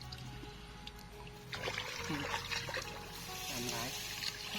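Water flowing in a stream through rural Thai farmland makes a steady trickling wash, with voices talking nearby over it.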